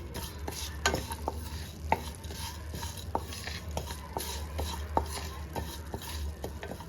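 Green peas kurma masala being sautéed and stirred in a pan, a steady low sizzle under repeated scraping and clinking strokes of a spoon against the pan, close and continuous.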